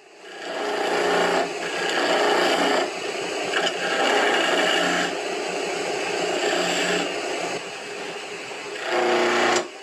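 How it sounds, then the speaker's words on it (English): Cherry wood spinning on a lathe and cut with a skew chisel, giving a steady whirring, scraping hiss that runs continuously with brief dips between passes, close and fairly loud, no talking. "Skew chisel."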